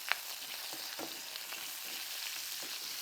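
West Sumatran rendang caramelises in a pan, giving a soft, continuous sizzle broken by a few light stirring clicks and scrapes. The sound stays quiet and even, and no one speaks.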